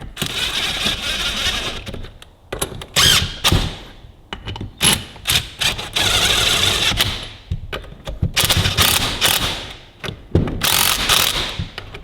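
Ferguson TEA20 hydraulic pistons rattled gently into place during a hydraulic overhaul, giving a series of close metallic clunks and rattling bursts separated by short pauses.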